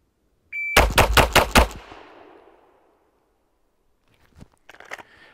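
Rapid burst of five pistol shots fired with a red dot sight, loud and close, each crack decaying into a short echo, followed by faint clicks and handling noises after a pause.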